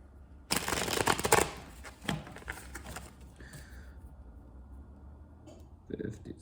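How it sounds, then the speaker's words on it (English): Cards being shuffled for a card reading in a quick riffle burst, followed by softer card handling and light clicks, close to the microphone. "Okay, one more shuffle."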